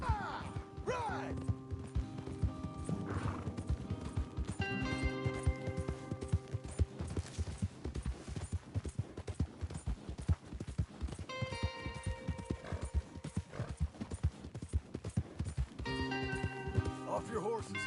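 Horses gallop in Red Dead Redemption 2, with a steady stream of hoofbeats running through the whole stretch while voices talk over it.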